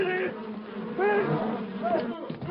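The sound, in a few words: swarm of wasps or bees buzzing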